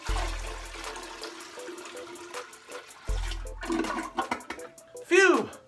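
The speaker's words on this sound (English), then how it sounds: "Just pour some water in your toilet to flush it." A household toilet flushed by pouring water straight into the bowl, a gushing surge of water followed by a swirling drain that rises to a loud gurgle at the end, heard alongside talk and background music.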